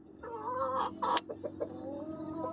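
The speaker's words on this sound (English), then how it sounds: "This is our rooster." A rooster gives a run of throaty clucks and short squawky calls up close, one sharper burst in the middle, fairly loud over a quiet outdoor yard background.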